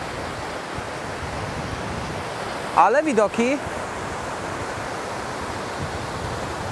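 Rough, churning sea water, muddy and agitated, rushing as a steady broad wash through the whole stretch near the Batumi coast, with a brief voice speaking over it in the middle.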